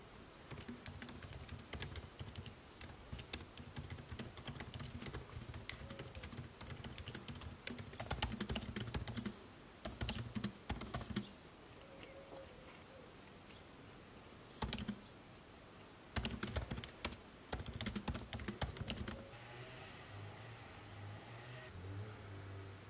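Bursts of computer-keyboard typing during a writing session, brisk clicking runs broken by pauses over a steady low engine-like rumble, with no talking.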